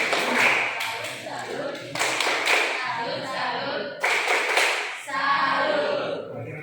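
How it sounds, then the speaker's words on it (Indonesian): Schoolchildren in a classroom do a rhythmic salute clap, bursts of patterned clapping and taps in several groups, with children's voices mixed in. "Tepuk salut."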